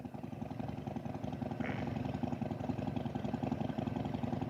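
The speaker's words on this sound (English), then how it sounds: "Desired idle speed and that idle air control valve, that all seems to be working the way it should." A powersports engine idles steadily in a shop with its idle air control valve working, a close, even low rumble with a rapid regular pulse, growing slightly louder partway through.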